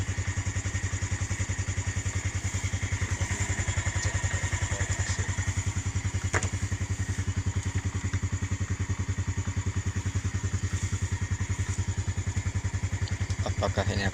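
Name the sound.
Jupiter motorcycle running to charge a Honda Brio battery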